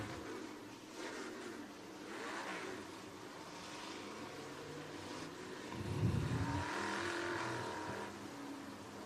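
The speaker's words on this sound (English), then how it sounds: "Cars are rolling." Race cars roll around Penton Raceway before a Topless Outlaws start, their engines droning from a distance with a nearer car rumbling louder past midway.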